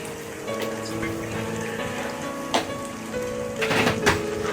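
Heavy rain falls steadily in a continuous wash, with a few sharper splashes and louder bursts toward the end over a low background hum.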